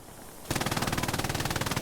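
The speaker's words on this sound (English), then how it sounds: "MG in the building." Machine gun fire in the video game Hell Let Loose on the Tobruk map during a competitive match: a sustained, rapid burst of evenly spaced shots starts abruptly after a brief quiet moment and stays loud and close.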